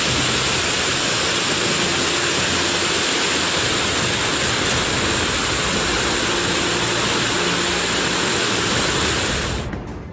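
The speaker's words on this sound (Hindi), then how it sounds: "पानी के तेज बहाव की यह आवाज सुनिए" Rushing floodwater after a cloudburst in Sera village, Chamoli district, Uttarakhand, during heavy monsoon rain: a loud, steady, broadband roar of churning water with no pauses, close by, ending in a brief fade.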